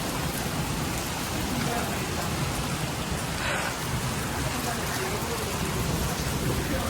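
Steady, dense rain pours down evenly for several seconds as an unbroken close wash of noise, with no voices or other sounds rising above it.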